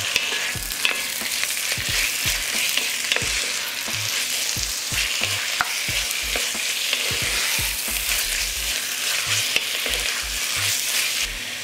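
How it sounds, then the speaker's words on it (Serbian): Chopped beef frying in a pan with onion and carrot, a continuous loud sizzle broken by repeated scraping and stirring knocks, with no voices. "Iseckano meso dodat ću u luk i šargarepu i nastaviti da prži"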